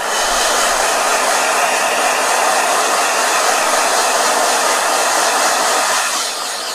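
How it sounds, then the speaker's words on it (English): A hair dryer runs steadily with a loud, continuous airy whoosh from start to finish, close by. "Blow dryer."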